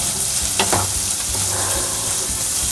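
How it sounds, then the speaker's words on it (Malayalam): Onions frying in a pan for a Kerala curd curry (moru curry) are stirred, giving a steady, close sizzle with a few scraping stirs across it and no talking. "ഒന്ന് ഇളക്കി കൊടുക്കുക"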